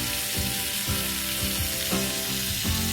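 Meat sears in melted butter in a hot pan, a steady close sizzle and crackle running throughout with soft repeated thumps of the pan or utensil, no one speaking.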